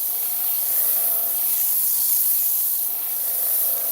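Sandpaper on a rotary sander spinning at about 1,000 RPM gives a continuous, even, close-up hissing rasp with no pauses.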